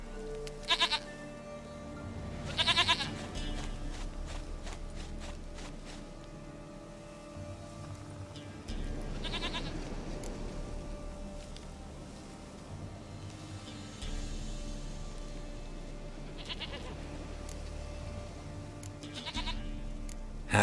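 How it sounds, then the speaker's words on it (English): A goat in The Witcher 3 video game bleats several times, with short, nasal cries spaced apart over a low, steady background hum. "Goat of mine, dearest, sweetest goat."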